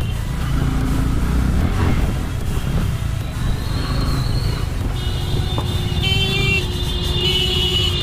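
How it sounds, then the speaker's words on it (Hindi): Yamaha R15 V3 sport motorcycle on a fast ride, its engine droning steadily with heavy wind rush throughout, a few rising rev tones near the end, no voices. "इसमें मैंने फर्स्ट टाइम रश राइड किया है कि नहीं आदि?"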